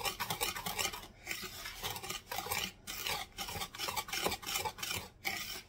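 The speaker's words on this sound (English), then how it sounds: "So I'm going to mix the powders together first." Dry powder ingredients for a peach cobbler are mixed in a bowl, producing rhythmic rasping, scraping strokes in repeated bursts with short pauses between them, close and fairly quiet.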